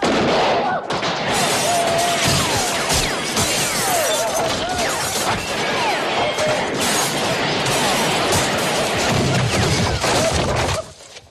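A dense, sustained gunfight in a western film setting: rapid overlapping shots, crashes and shattering ring out almost nonstop, with shouting mixed in, before the noise cuts off at the end.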